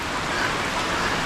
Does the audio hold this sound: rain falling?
yes